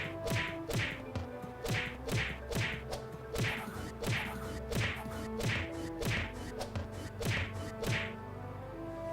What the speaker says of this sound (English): Now corpse explosions.